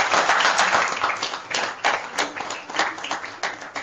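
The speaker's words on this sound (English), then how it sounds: "let's clap for Riaz Bhatti" A conference hall full of people clapping steadily at a neuropsychiatry scientific session, a dense patter of applause at moderate volume that thins slightly toward the end.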